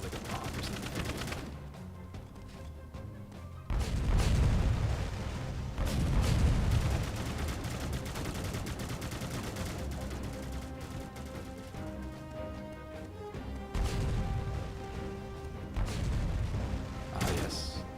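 Overhead bomb strike in a Nintendo Switch game, a run of heavy explosions and gunfire-like blasts arriving in several booming waves over a steady game soundscape with music, fairly loud and close.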